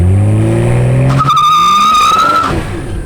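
A BMW M240i tuned with a JB4 at +6 PSI on 93 octane launches hard, its tires spinning and squealing loudly over a rising engine roar for a few seconds before the squeal cuts off.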